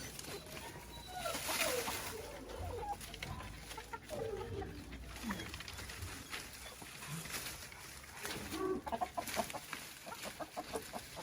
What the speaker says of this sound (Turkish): yeni tavukların geldiğini anladı